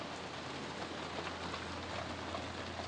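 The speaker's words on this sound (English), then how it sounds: "you can hear the rain outside" Light rain falls outside a parked RV, a soft, even patter heard faintly and continuously with no voices.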